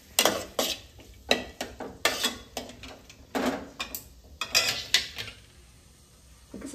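A utensil stirs chopped okra in a metal pan, making repeated close scraping clinks and clatters in irregular bursts with short pauses between.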